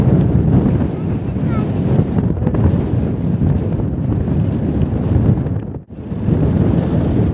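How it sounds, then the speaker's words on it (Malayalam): Strong wind buffets the microphone at Thangal Para, Vagamon, in loud, continuous gusts, with a brief drop near the end before the roar returns. "നല്ല കാറ്റുണ്ട് ഗൈസ്"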